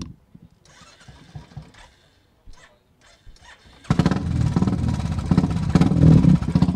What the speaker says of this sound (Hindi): गाड़ी स्टार्ट हो चुकी है और आप साउंड से ही समझ सकते हैं कि साउंड काफ़ी तेज है।